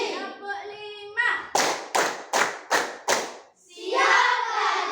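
Children in a classroom clapping game strike out five crisp claps in a steady rhythm, close and loud, with voices chanting just before the claps and again after them.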